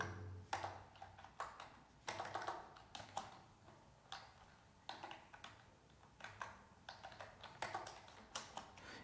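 Notes are typed on a computer keyboard in quick bursts of soft key clicks, with short pauses between runs, close and faint, with no talking.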